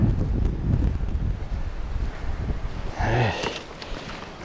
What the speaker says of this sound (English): The wind's picking up a lot too